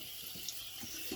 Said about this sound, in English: Just rinsing off my hands, washing off my hands.